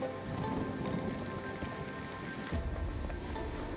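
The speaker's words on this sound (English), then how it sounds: "Rain effects." Steady rain falls in a video game world trailer, a dense continuous wash of raindrops pattering on surfaces, with a deeper rumble swelling in after a few seconds, no voices over it.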